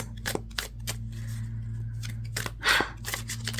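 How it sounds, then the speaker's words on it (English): Soft papery riffles and taps of tarot cards being shuffled, a few brief bursts over a steady low hum, with one louder flurry near the end. "as I'm shuffling out your cards"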